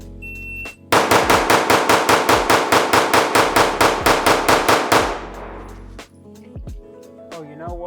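Gold Staccato C2 pistol fired in a fast drill string, roughly twenty sharp, evenly spaced shots ringing out loud and close in rapid rhythm, then stopping, followed by a brief clatter and quiet movement.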